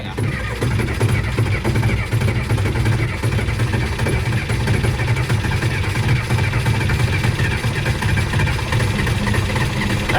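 A John Deere 2510 tractor engine idles after a cold start on a chilly day, a loud, close, steady rumble that holds unchanged the whole time.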